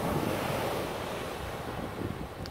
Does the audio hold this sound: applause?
no